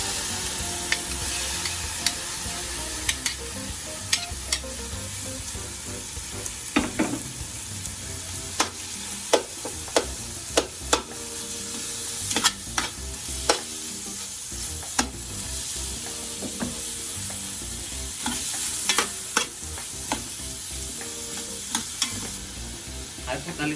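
Pork skin and fat frying in a pan with garlic, a steady bright sizzle running throughout while a utensil scrapes and stirs in sharp, irregular clicks.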